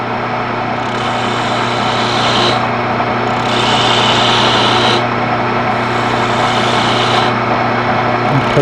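A wood lathe spins with a steady motor hum while a skew chisel cuts a shoulder into the turning wood, a loud continuous whir broken by bursts of brighter cutting hiss.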